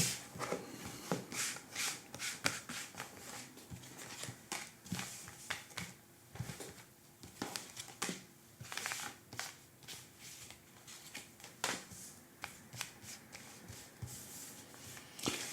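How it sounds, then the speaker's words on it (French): Tarot cards shuffled by hand at close range, with repeated quiet riffling and slapping bursts at an irregular rhythm, card edges brushing and tapping together throughout, no speech. "je fais juste un léger petit mélange là et je vous fais votre tirage"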